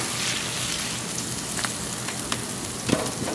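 Smashburger patties sizzling on a griddle as they are flipped: a steady close crackling sizzle like light rain, with a few faint scrapes and taps from the spatula and no talk.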